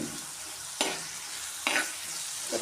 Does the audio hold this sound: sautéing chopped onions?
yes